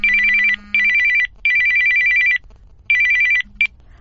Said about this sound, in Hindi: पर एक दिन अचानक उसका फोन आया।